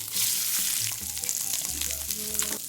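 Seasoned scallops laid into a hot pan, an immediate bright hiss and sputter that holds steady with small pops, close and loud, no voices.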